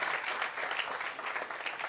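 A brief burst of thick, continuous clapping from a conference audience at a climate-risk round table, welcoming a doctoral student to the stage. Loud and close throughout its two seconds.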